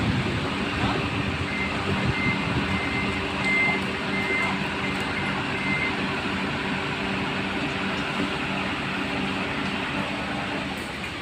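A city truck loading cut tree branches sounds repeated, evenly spaced reversing beeps over a rumbling diesel engine and outdoor clatter, close and fairly loud.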